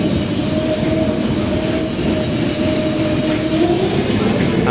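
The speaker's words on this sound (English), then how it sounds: "Distracting grinding of the tracks as well." A mine tour train rolls steadily along underground tracks, its wheels grinding and faintly squealing in a continuous, loud rumble that stays close throughout with no pauses.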